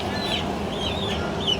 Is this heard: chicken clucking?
yes